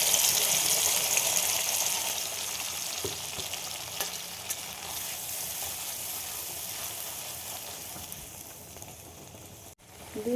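Spice paste hitting a hot pan and sizzling, a broad steady frying hiss with faint stirring scrapes, close and fairly loud, fading slightly toward the end.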